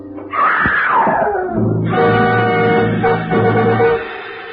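A woman screams and wails in an old radio detective drama, the cry rising loud and harmonic, then breaking into sustained sobbing moans that carry through to the end.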